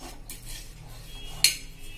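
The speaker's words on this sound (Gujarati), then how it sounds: "હવે એને આપણે આ રીતે ઉખેડી લેશું ચમચીથી" A metal spoon scrapes cooled roasted alum loose from a pan, giving one short, sharp clink-and-scrape midway through a quiet background hum.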